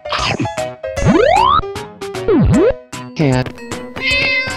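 A cartoon-style cat meows in an animal-guessing escape room game, mixed with springy boing-like sweeps and short synthetic tones in quick bursts.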